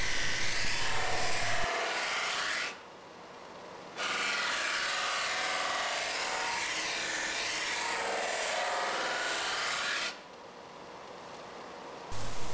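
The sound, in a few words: buffing wheel polishing a Larrivee guitar finish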